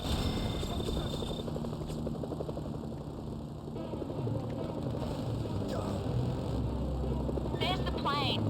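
Helicopter rotor chop in the video game Mercenaries, a continuous rhythmic thudding and engine whine in hills with surface-to-air missile threats, steady and fairly loud, with brief chirps and effects near the end.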